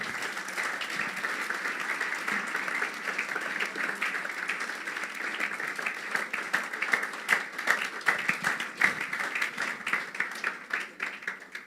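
Congregation at a church gathering applauding in a long, sustained wave of dense clapping that swells toward the end, heard alone without talk.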